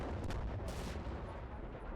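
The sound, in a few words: anti-aircraft vehicle firing shells in the video game Combat Mission: Cold War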